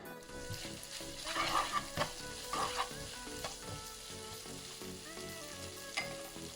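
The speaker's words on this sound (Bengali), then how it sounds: "ওর মধ্যে সামান্য একটু তেল দিয়ে দিচ্ছি কিউব করে কাটা পেঁয়াজ, দিয়ে দিচ্ছি ক্যাপসিকাম" Cubed onion and capsicum fry in a little oil with a soft, continuous sizzle and occasional stirring clatter, fairly faint overall.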